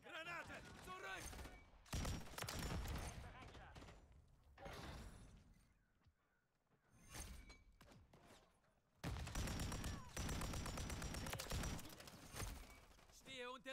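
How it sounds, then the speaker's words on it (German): Gunfire in Call of Duty Modern Warfare III: bursts of rapid shots and impacts in dense, loud battle noise, with voices shouting in German between and over the firing. "Der Beschuss!"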